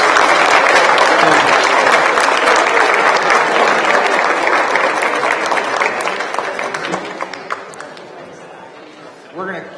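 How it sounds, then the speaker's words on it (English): An audience at an 8th grade academic awards school assembly claps loudly and steadily, the applause holding strong before gradually thinning out and fading toward a few scattered claps at the end. "Another round of applause for our academic excellence."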